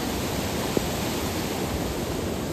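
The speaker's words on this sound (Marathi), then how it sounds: "तर मित्रांनो आपल्याला ही नदी क्रॉस करायची आहे इथून" A river rushing at a crossing point on the trek to Mahuli Fort, a dense, steady roar of flowing water, loud and continuous with no voices.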